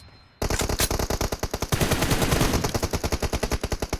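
Video game gunfire, with a sustained rapid machine-gun burst of evenly spaced, loud, close shots that continues almost without break after a brief quiet start.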